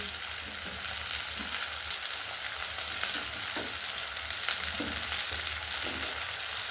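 Chopped onions, green chillies and vegetables fry in hot oil for egg chowmein, a loud steady sizzle with occasional scraping knocks as they are stirred in the pan.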